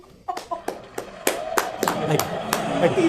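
A talk-show audience claps for a guest named Trey, starting with a few sharp, separate claps that quickly thicken into fuller, quicker clapping, with voices mixed in.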